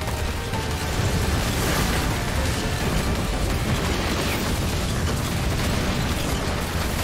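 Explosions and rumbling blasts fill a scene from the video game Bayonetta 3, forming a dense, loud, continuous roar with crackling bursts and no pause throughout.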